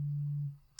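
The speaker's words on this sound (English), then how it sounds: "That was a text message." A short electronic notification tone for an incoming text message, a single steady beep about half a second long that fades out, heard alone at moderate volume.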